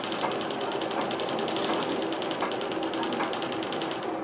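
A Singer 24-52 treadle sewing machine stitching at speed, a steady close mechanical whir with a fast, even needle-and-gear clatter running throughout without pause.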